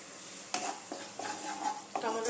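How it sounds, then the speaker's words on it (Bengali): Spice masala with ginger and tomato fries and is stirred in a pan for a Bengali dahi parwal dish, with a steady sizzle broken by a few sharp scraping stirs up close. "2 মিনিট আমি মশলাটা কষিয়ে নেব।"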